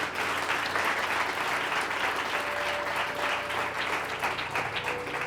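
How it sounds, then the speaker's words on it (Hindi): A church congregation claps for the Lord, sustained dense applause from many hands for several seconds, with a faint tone and scattered crowd sounds beneath. "क्यों ना प्रभु के लिए ताली बजाएं।"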